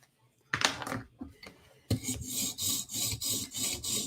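A custom Para 3 knife heel is sharpened on a TSProf Kadet guided sharpener, its stone rasping against the steel in repeated close strokes, a short scrape first, then a steady run of rhythmic grinding passes.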